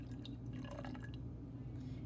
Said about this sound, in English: then I'm going to pour in the 25 milliliters of water.